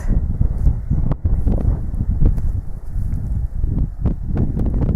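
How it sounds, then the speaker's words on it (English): Steady wind buffeting a microphone at Carreg Cennen, with low rumbling gusts that rise and fall throughout and no voices. "The side is quite windy."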